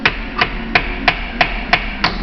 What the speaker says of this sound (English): I'll tap it with a hammer.